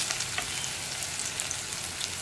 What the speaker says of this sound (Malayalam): അപ്പോൾ ഉള്ളി ഒന്ന് കുക്കായി വരുന്നത് വരെ ഒന്ന് ഇളക്കി കൊടുക്കുക